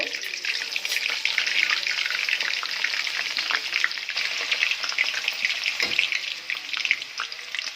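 Fenugreek, mustard seeds and onion frying in hot oil in a pan, a dense steady crackling sizzle with brief stirring scrapes, close and continuous.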